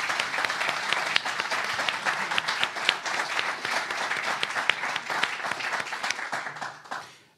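Warm audience applause at a humanist salon debate, dense steady clapping from a seated crowd that holds evenly for several seconds and then quickly dies away.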